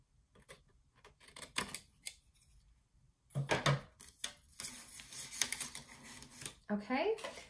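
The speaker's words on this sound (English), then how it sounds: "Just cut those four little boxes out." Scissors snip paper boxes out for a handmade envelope mini album, with short crisp cuts in uneven bursts at close range, some quiet pauses between them and a voice speaking over part of it.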